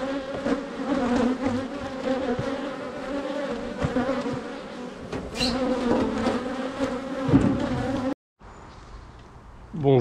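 Honeybees buzz densely and continuously around beehives at an apiary in Saint-Palaire in midsummer, a close, steady, droning hum with shifting pitches, cutting off abruptly near the end.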